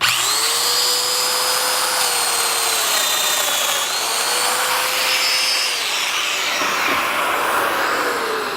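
Domino joiner plunge-cutting mortises into a wooden table apron: whining motor bursts that rise, hold, and drop in repeated cuts, close and loud with no talk.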